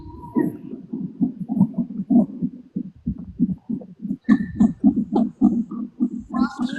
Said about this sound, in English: Heartbeat again.